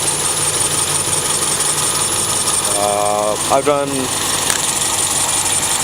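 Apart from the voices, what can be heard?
CB7 car engine idling after cold start, serpentine belts squeaking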